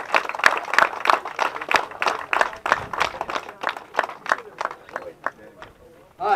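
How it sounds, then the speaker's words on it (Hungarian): A small audience at a car rally award ceremony claps for the H6 category winners, a steady patter of hand claps that thins out and fades toward the end. "Nagy tapsot kérnénk szépen a H6-osoknak"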